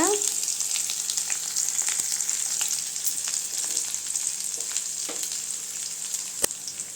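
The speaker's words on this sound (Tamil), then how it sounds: "அடுத்து கருவேப்பிலை வெங்காயம் போட்டுக்கலாங்க காஞ்ச மிளகாய் ரெண்டு போட்டுக்கலாங்க" Onions, curry leaves and two dried red chillies frying in oil with cumin, producing a bright, steady sizzle with occasional crackles and a sharp spatula tap near the end.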